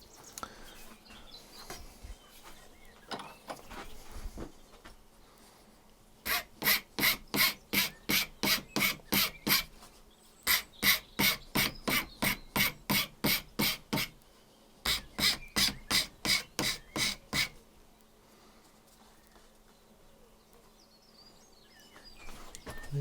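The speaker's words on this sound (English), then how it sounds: "So now I need to round these corners off, which I shall do with the file here." A hand file rasps over the corners of a wooden medieval arrow shaft, rounding them off in three close, loud runs of quick, evenly paced strokes, with quiet pauses between the runs.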